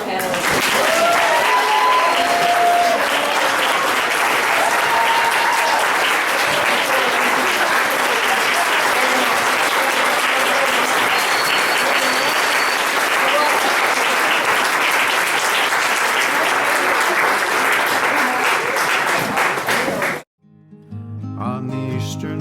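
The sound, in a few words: audience applause for panelists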